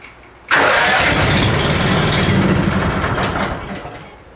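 A small engine, choke set, cranks and catches abruptly, then settles into a loud, steady close-up idle that slowly tapers off.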